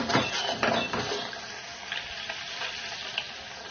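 Butter simmering down into ghee in a pan, a soft steady bubbling crackle close by with a few light clinks early on.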